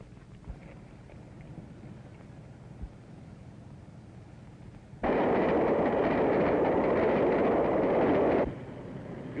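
A train runs on rails in a 1932 action serial, a loud rushing roar that bursts in abruptly, holds steady for several seconds and then cuts off, leaving a faint background hiss.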